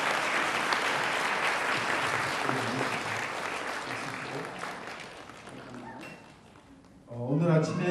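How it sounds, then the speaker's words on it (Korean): An audience at a national Holy Spirit renewal convention claps in dense, sustained applause that gradually thins and fades, before a voice begins speaking at the end. "拍手をお願いください。"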